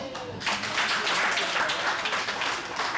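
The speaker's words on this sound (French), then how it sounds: "on va applaudir pour ça" An audience at a conference claps in a burst of applause that rises quickly and holds steady over a few seconds, with speech underneath.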